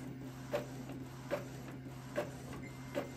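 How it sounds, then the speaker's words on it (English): An Epson EcoTank L3250 printer scans and prints a copy, a quiet steady mechanical whir broken by four evenly spaced soft clicks roughly every three-quarters of a second. "when you press this button, it's scanning and then printing at the same time"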